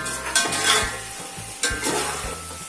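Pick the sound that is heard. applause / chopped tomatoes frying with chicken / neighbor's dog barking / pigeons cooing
chopped tomatoes frying with chicken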